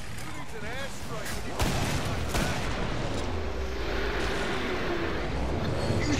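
Gunfire from a gun in the co-op shooter Killing Floor 2: a few sharp shots ring out early, followed by a continuous rumbling game din, with voices talking over it.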